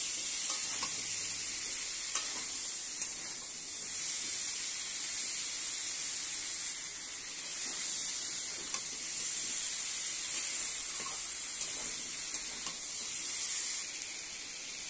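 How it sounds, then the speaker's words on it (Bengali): Young pumpkin pieces and potato being stirred with spices in a hot pan, a steady close sizzle and frying hiss running throughout with soft scraping strokes of the spoon, no voices. "এখন মশলার সাথে"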